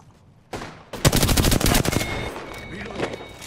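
Rapid bursts of automatic gunfire in the Apex Legends battle royale shooter, loud and close, with a dense volley of shots followed by scattered single cracks and fading echoes.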